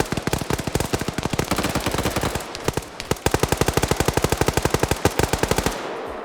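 Rapid automatic gunfire from an Arma 3 PvP tournament match, long sustained bursts of evenly spaced shots with a brief pause in the middle, loud and close.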